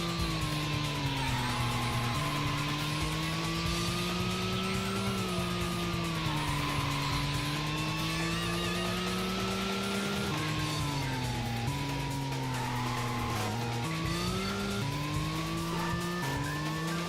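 Car in the PS1 street-racing game Racing Lagoon drifting through corners, steady engine drone with long rising and falling tire squeals sustained throughout, loud and continuous with no talk.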